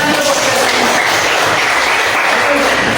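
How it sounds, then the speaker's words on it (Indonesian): A classroom group of teachers in a training session applauds a presenting group: steady, dense clapping from many hands, fairly loud and continuous for the whole stretch, with no pauses. "Tepuk tangan dulu."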